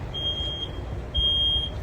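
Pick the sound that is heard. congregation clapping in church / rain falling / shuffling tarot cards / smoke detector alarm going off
smoke detector alarm going off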